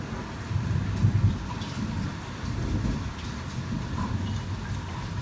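Heavy rain pours steadily during a Brisbane hailstorm as the hail ends, with low thunder rumbling through the downpour; a continuous dense wash of sound with no voices.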